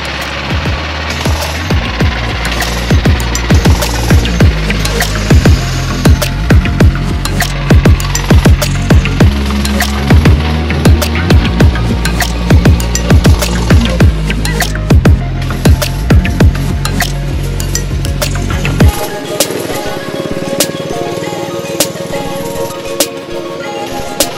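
A Coleman SK100 go-kart engine idles and revs steadily at close range, a loud rattling small-engine drone with a choppy pulse that drops to a rougher, thinner idle near the end.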